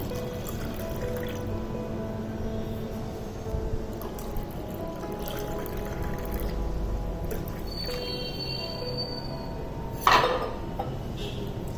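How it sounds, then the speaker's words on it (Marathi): Cold water trickles in a long, steady stream into raw mango pulp drink, a soft, even pouring with a brief clink of a vessel near the end. "आता आपण पाणी घालूया."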